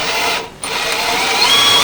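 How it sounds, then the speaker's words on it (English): A small drill bores a hole while fitting a water tank in an off-grid camper van, giving a loud, steady whirring whine that drops out briefly near the start and then runs on unbroken. "now I'm just going through there with a small drill"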